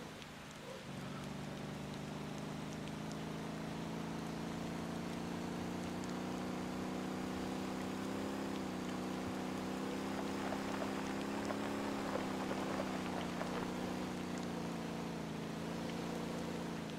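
Car engine droning and revving at high load in a video game, a steady harmonic whine that rises slightly and holds under a hiss of road or wind noise for the whole stretch, with no talk.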